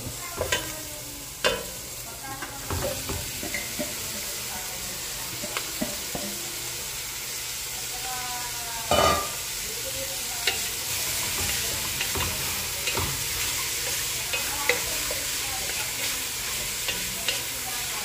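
Beef innards for kaleskes, a Pangasinan dish, sizzle steadily in a pan while a utensil stirs them, giving occasional scraping clicks and louder stirring knocks over the constant frying hiss; no one speaks.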